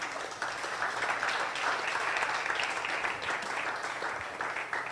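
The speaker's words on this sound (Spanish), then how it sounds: "Denle un fuerte aplauso." Church congregation applauding, steady dense clapping from a crowd held at moderate volume for several seconds with no break.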